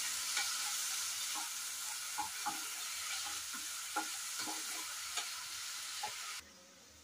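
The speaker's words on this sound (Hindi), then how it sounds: "अब टमाटर डाल देंगे, जितना प्याज पकाया है उतना टमाटर पकाएंगे। अच्छे से मिला लेंगे," Onions and tomatoes frying in a pan for South Indian dal palak, a constant sizzle broken by repeated soft scrapes and clicks of stirring, with no talking.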